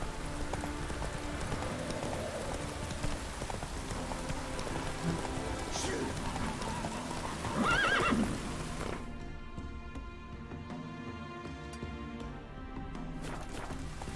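Hoofbeats of Roach, the horse in The Witcher 3, gallop steadily throughout, with a whinny and rain falling on the ground. The music and ambience shift partway through.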